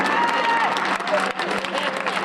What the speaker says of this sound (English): Y'all clap hard enough for me.